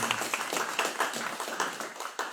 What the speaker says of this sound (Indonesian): Kita beri tepuk tangan untuk Diego.